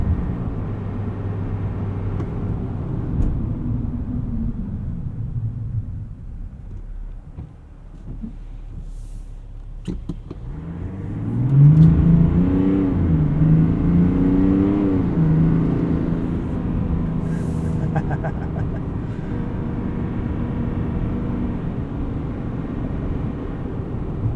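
A low engine rumble of a 2024 Chevrolet Silverado 1500 ZR2 3.0L Duramax diesel in sport mode drones steadily inside the cab, swelling as the revs climb and holding at a higher pitch for several seconds.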